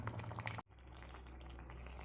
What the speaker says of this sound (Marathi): आता त्याला चांगली उकळी काढून घेते